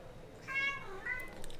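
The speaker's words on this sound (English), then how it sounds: "I can't stop this cat." A cat gives a short meow, followed by a second softer meow, close by in a quiet room.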